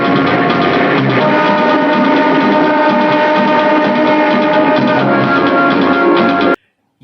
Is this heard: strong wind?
no